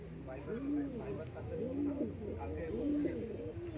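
Pigeons coo in a loft of Red Flower pairs up for sale, several rolling, repeated calls at a steady rhythm, close and faint, with people talking nearby.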